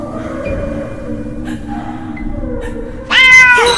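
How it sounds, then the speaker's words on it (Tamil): A cat lets out a loud, drawn-out meow close by near the end, following a quieter stretch of low, wavering vocal sounds and faint background noise. "இந்த பூனை தொல்லை வேற"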